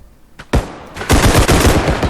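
Loud, close automatic gunfire rattles in rapid bursts in a bodycam-style shooter video game, starting after a short quiet moment and continuing in dense volleys.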